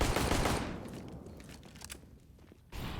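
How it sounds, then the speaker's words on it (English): Glock pistol fire carries from a distance on Counter-Strike's Inferno map, a quick volley of muffled shots under a roaring noisy background, a bit faint and blurred. "A Glock is heard across Banana"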